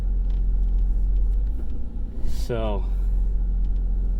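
A 3rd generation Toyota 4Runner with a fault that appears around the shift into second gear idles with a steady low engine rumble, then revs briefly in a rising whine. Someone speaks a single word near the start.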